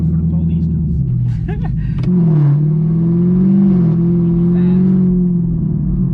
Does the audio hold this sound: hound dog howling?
no